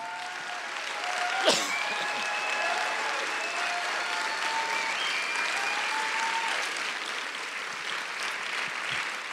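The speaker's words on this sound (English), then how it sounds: "stand on your feet and clap your hands and give honor to Pastor Dick Bernal" A church congregation stands and claps on New Year's Eve in honor of Pastor Dick Bernal, sustained crowd applause with a few faint cheers and whistles rising over the steady clapping.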